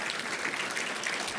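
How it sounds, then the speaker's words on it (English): Audience applause at a civic awards ceremony for King County councilmembers, a short steady burst of dense clapping heard alone, moderately loud and even throughout. "Please give them a round of applause."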